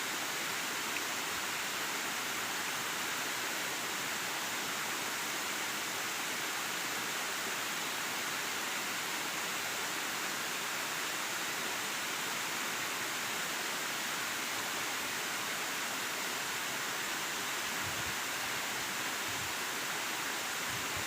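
Continuous broadband rushing of the Curug Nyandung waterfall in Kuningan, Indonesia, a dense steady hiss and roar that stays unchanged throughout, with no voices.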